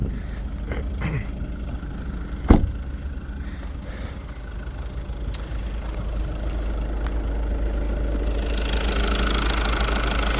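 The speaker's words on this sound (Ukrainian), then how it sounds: "мотор працює рівно, стабільно, справно" Volkswagen Passat B7 engine idles smoothly and steadily, a continuous low hum close by, with one sharp knock-like click early on and a hiss rising toward the end.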